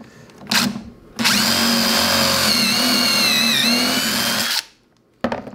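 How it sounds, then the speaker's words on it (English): An impact driver whines loudly and steadily for about three seconds, drilling a pocket hole into wood, with brief shorter bursts before and after. "we're going to use the impact gun here and just drill it through."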